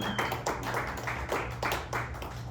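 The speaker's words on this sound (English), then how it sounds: "You guys can applaud because that's really impressive." A small comedy-club audience at a brewery applauding, a soft burst of scattered hand clapping in uneven bursts, fairly faint over a low background hum.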